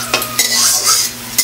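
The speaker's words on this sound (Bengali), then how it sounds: "দেখুন আমার পেঁয়াজটা ভালোই ভাজা হয়ে গেল" Onions frying in a pan while being stirred with a metal utensil, close and loud, steady sizzle broken by several scraping stir strokes.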